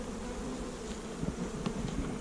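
Honeybees buzz around a hive entrance in spring, a steady close swarm hum that holds throughout with slight swells.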